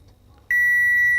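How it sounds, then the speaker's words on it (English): A single sharp electronic confirmation beep from a car dashboard instrument cluster after startup sounds after a quiet moment, a steady high tone held to the end. "Confirmation beep."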